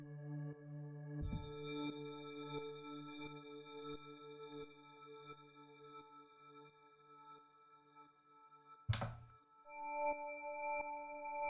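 Bright, glassy synthesizer tones made in Ableton ring in sustained layered chords, with a low thump near the start and a sharp accent around the ninth second before the glassy pad resumes; no one speaks.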